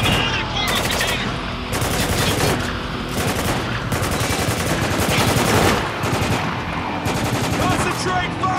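Rapid gunfire from a video game shootout at a cargo container area: dense, loud bursts of automatic and repeated shots rattle almost continuously with only brief pauses, with occasional game voices mixed in.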